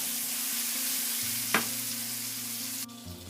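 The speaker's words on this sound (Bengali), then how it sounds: "আমি 1 টিস্পুন হলুদের পাউডারটা দিয়ে এটা ভালো করে মিশিয়ে নিচ্ছি।" Onions frying in oil in a pan as turmeric powder is stirred in, a continuous close sizzle with one sharp scrape of the spoon midway and a low hum underneath.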